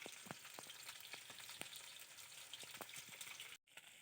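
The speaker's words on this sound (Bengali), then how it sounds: "এখানে মাছের ডিম আর তেল এগুলো ভাজছি" Fish roe and fish oil frying in a pan over a wood-fired stove, a faint steady sizzle and crackle with scattered pops, briefly cutting out near the end.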